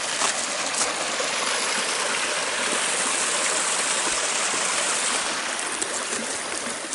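Creek water rushing steadily over rocks in an outdoor stream, a continuous loud broadband flow with no talk.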